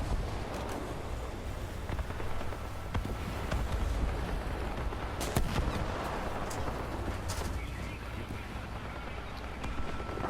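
Artillery fire in War Thunder, a tank battle game set in the Alps, rumbles as a dense, steady wash of distant booms and scattered thuds under a continuous noisy bed.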